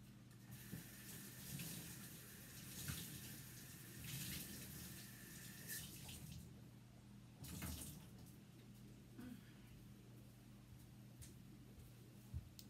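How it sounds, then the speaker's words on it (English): Tap water runs steadily into a sink while a chalkboard eraser is rinsed under it, a continuous splashing gush with small shifts in flow as the eraser moves through the stream. "I just need to rinse out my board eraser because it's full of yellow."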